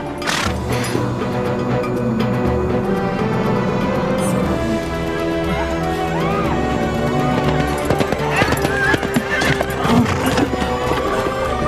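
A horse neighs amid clip-clopping hooves over a dense, loud mix of music and background voices.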